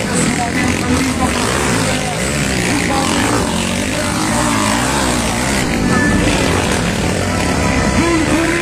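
A velocross racing motorcycle accelerates past on a dirt race track, its engine whining and rising in pitch, loud and close, with a commentator talking over it.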